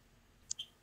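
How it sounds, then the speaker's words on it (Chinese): A computer mouse clicks twice in quick succession, small sharp ticks close and faint in an otherwise quiet room. "直接点击这个市场"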